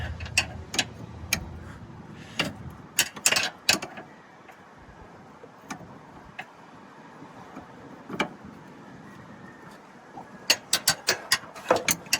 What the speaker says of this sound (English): Now that it's broken, you can swap sides to easily wrench away.